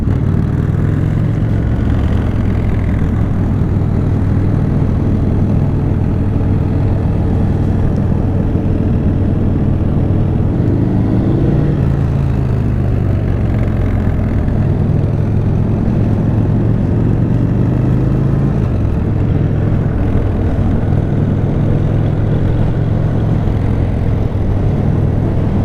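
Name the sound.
motorcycles riding at a Harley meetup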